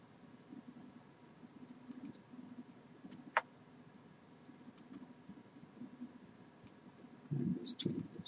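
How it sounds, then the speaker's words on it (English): Soft computer mouse clicks tap out at irregular intervals over a faint steady background hum, with one sharper click standing out and a brief burst of louder noise near the end. "we're going to hold down a control key, click off the rest of these."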